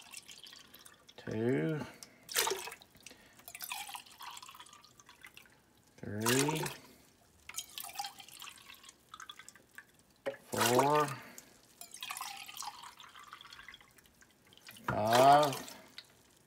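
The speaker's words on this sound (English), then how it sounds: "I'm going to put 6 cans of water" Water from cans is poured into a pot of homemade hamburger soup in several separate gurgling pours spaced a few seconds apart, close and moderately loud, with softer handling noises in between.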